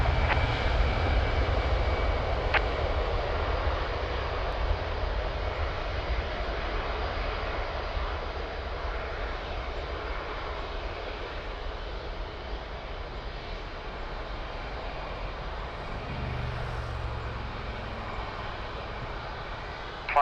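An Airbus A320 airliner rolls for takeoff at Lisbon Airport, its engines a steady, loud, broad roar that holds level throughout, heard from a distance with no talk.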